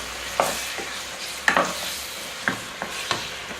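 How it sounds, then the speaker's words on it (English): Beef frying in a pot is stirred over medium heat, with a steady sizzle under a series of sharp spoon scrapes and knocks against the pot, about five strokes spaced unevenly, close and moderately loud. "then you can stir well"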